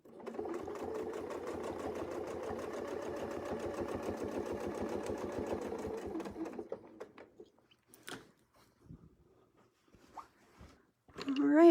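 A sewing machine runs a fast, even stitching rhythm for several seconds while quilting along a Westalee crosshair ruler template, then stops, leaving faint handling clicks and rustles.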